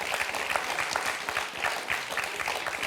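A studio audience applauds two contestants on a French television quiz show, a dense, steady patter of many hands filling the room without a break.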